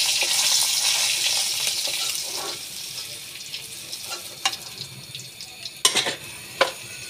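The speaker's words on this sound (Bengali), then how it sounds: "ভালো করে পেঁয়াজগুলো ভেজে নেব।" Onions and green chillies fry in hot oil in a wok, giving a steady close sizzle with occasional sharp clinks and scrapes from stirring, louder at the start and easing off, with no talking.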